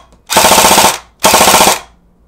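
An airsoft Matrix AK rifle fires on full auto in two short, loud bursts of rapid clattering shots separated by a brief pause, close to the listener with no talk.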